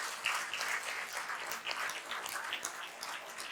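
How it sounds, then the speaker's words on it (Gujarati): An audience gives steady, sustained applause for their teachers at a school talk, a dense wash of clapping holding at an even level for a few seconds with no voices over it. "એકવાર જબરદસ્ત તાળી થઈ આપણા શિક્ષકો માટે."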